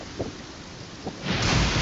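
Thunder and rain in the Genshin Impact video game: a couple of soft low rumbles, then a swelling wash of heavy rain and thunder in the final half second.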